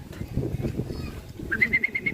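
A racing pigeon coos softly amid rustling and low background noise, followed by a short run of high, evenly spaced chirps.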